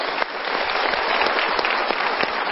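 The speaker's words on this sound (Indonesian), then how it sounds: "Kita berikan tepuk tangan." A studio audience at a televised motivational talk show gives a steady round of applause, dense and even from start to finish with no voices over it.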